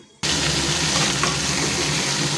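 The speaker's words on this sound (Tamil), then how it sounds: "கட் பண்ணி வச்ச வெங்காயம் பச்சை மிளகா தக்காளி கருவேப்பிலை எல்லாத்தையும் போட்டு தாளிச்சிக்கோங்க" Chopped onion, green chili, tomato and curry leaves hit hot oil with a loud, steady sizzle that starts abruptly and holds close and dense with no voices.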